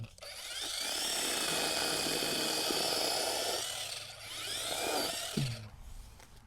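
Cordless mini chainsaw with automatic oiler cutting through wood, a steady loud buzzing whine that holds for about four seconds, dips briefly, then bites again before winding down.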